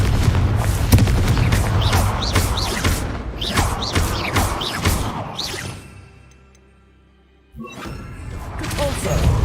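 A Confringo fire spell blasting in Hogwarts Legacy, heard as a run of loud booms, crashes and shattering impacts that fade to near silence before another burst of debris and clatter returns.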